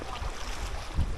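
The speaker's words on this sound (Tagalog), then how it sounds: "Lakas ng hangin." Strong wind gusts by a river, a continuous low rumbling buffet close to the ground, swelling louder toward the end with no voices.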